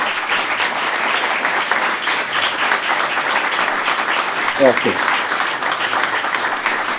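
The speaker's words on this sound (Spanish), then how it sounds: "Pues te vas a llevar este aplauso de todos nosotros" An audience at a literary talk with an author bursts into sustained, dense applause that carries on steadily while a voice briefly speaks over it.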